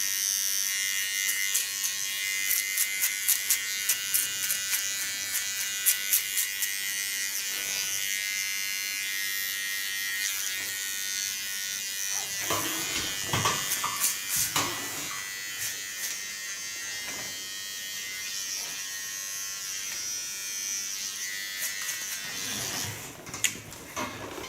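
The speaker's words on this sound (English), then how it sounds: "Now take a small clipper to clean the contour." Small electric hair clipper buzzing steadily near the head while cleaning up the contour of a boy's haircut, a continuous close whine with brief clicks and fluctuations as it moves along the hairline.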